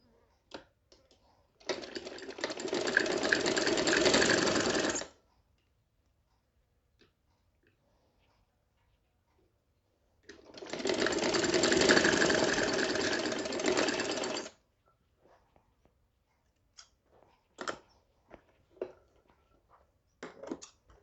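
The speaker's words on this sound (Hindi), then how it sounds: "ये पार्ट भी इस तरह से एंड स्टिचिंग कर लें" A sewing machine stitches a round-yoke kurti in two steady bursts of about three and four seconds, separated by quiet pauses, with light handling clicks near the end.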